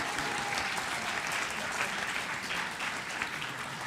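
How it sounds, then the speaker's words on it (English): Audience gives a round of applause for a husband and a six-year-old child at a book talk, a sustained, moderately loud patter of clapping with no speech over it. "Let's give them a round of applause."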